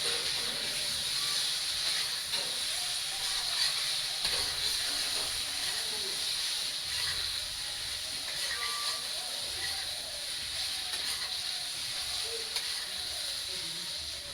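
Fried potatoes stirred and sautéed with spices in a pan for a Bengali rohu fish curry, giving a steady, continuous hiss and sizzle that runs throughout without letting up.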